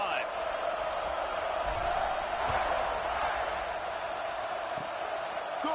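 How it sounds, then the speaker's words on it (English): A football stadium crowd roars steadily after a scoring drive, a dense, continuous wash of cheering that holds at an even level throughout, with a few faint thumps beneath. "this crowd is feeling themselves after that last drive"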